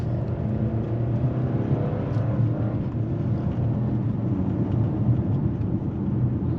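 Engine of a 2024 Mercedes-Benz GLA 250 4MATIC SUV while driving, a steady low hum with road rumble, even and constant throughout with no talking.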